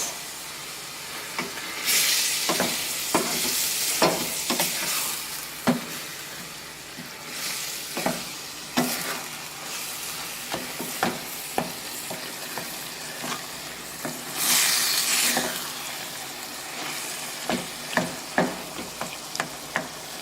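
Brazilian pastel filling with green onions and herbs stirred in a hot pan under a steady sizzle, with repeated scraping and tapping of a utensil and a couple of louder hissing surges.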